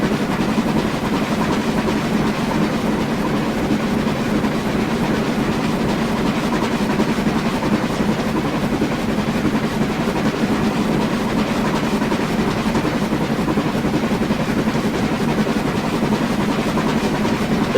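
Train simulator game audio of a BR Standard Class 2MT steam locomotive under way, a steady unbroken rumble of wheels and running gear with faint rhythmic clatter, constant in level throughout, no speech.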